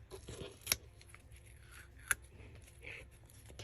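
Non-stick scissors cutting paper for a junk journal, two sharp snips well apart over a quiet room background, with no talk.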